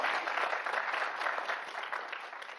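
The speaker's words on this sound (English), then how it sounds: "let's give them a round of applause" An audience applauds panelists at a discussion event, even continuous clapping that sounds slightly distant and gradually tapers.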